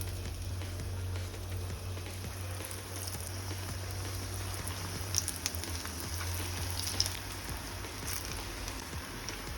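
Small balls of dill leaf pakoda batter fry in hot oil in a pan on the stove, giving a steady, even sizzle and crackle throughout with a few sharper pops, close and without any talk.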